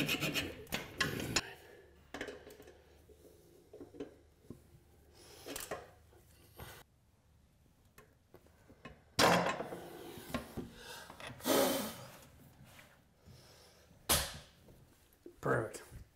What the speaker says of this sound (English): now we got to cut these bolts and put our caps on